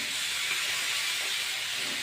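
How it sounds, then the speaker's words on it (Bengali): Malabar spinach seeds hit a hot pan and sizzle with a loud, steady hiss. The hiss holds at close range for the whole moment, with no speech. "এখন এর মধ্যে আমি পুঁই শাকের বিচিগুলো দিয়ে দেবো।"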